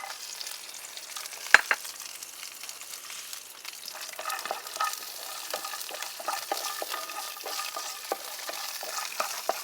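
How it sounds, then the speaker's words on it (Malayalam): Cashews and almonds fry in hot ghee for a sweet carrot semiya dish, giving a soft, quiet sizzle. Frequent light scraping and clicking from stirring is heard close up, with no talk. "ഇനി നമുക്ക് കുറച്ച് അണ്ടിപ്പരിപ്പും ബദാമും കൂടി വറുത്തെടുക്കാം."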